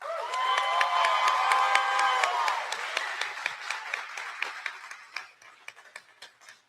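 Audience applause and cheering fill a hall at a Republican gubernatorial debate in Oregon, a loud, sustained wash of clapping with whoops that gradually thins into scattered individual claps toward the end.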